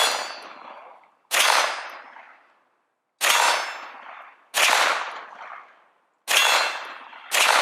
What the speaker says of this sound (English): All right, shoot some steel.